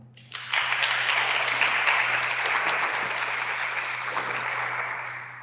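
An audience claps to welcome a speaker at a health and wellness discussion. The applause starts suddenly, stays full and steady for about five seconds, then thins slightly toward the end, with a constant low hum underneath.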